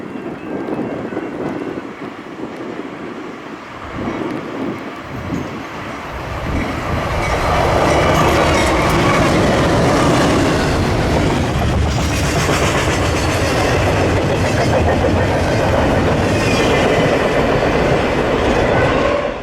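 A Norfolk Southern freight train, NS28X, rolls past close by, a loud steady rumble of wheels and cars with rhythmic rail clatter and wind buffeting the microphone, building louder partway through.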